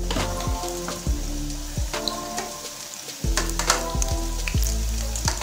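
Spinach pakoras fry in hot oil, giving a loud, steady close sizzle with repeated sharper crackles and bubbling bursts as pieces are added or turned.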